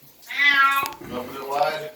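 A cat lets out two drawn-out, plaintive meows up close just before a bath, loud and clear with no talk over them.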